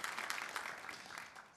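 A church congregation applauding, a faint, fairly distant wash of many hands clapping at once, tapering off gradually.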